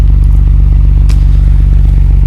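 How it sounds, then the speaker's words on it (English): A 1989 Nissan Skyline R32 GT-R with an aftermarket exhaust idles loud and close, a steady deep rumble with a fast even pulse and a faint clatter partway through. "Aftermarket exhaust sounds really nice"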